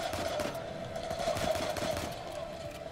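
Sustained gunfire from the video game Uncharted 4, a dense, steady rattle of shots running through the whole moment at a fairly constant level.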